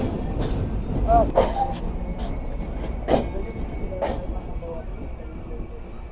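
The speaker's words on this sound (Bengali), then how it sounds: "আন্তনগর কপোতাক্ষ এক্সপ্রেস প্রবেশ করছে যশোর রেলওয়ে জংশন স্টেশনে রাত 7টা 8 মিনিটে" Kapotaksha Express intercity train pulling into Jessore railway junction station in the evening, a low steady rumble with scattered clanks and a few sharp metallic squeals and clicks over about six seconds, with background chatter.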